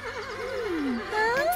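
A horse whinnies with a wavering, descending neigh that rises again at the end, heard clearly at moderate distance.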